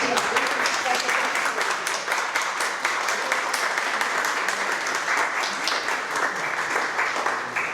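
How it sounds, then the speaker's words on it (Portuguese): Audience at a literary event applauding a foundation, a continuous round of many hands clapping at moderate volume with scattered sharper claps, steady for nearly eight seconds. "a gente, nesse momento, deve fazer uma salva de palmas à Fundação"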